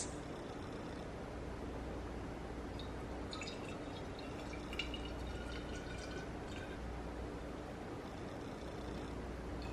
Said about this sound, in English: I can easily pour it into my lovely glass jar that I put all of my coffee syrups.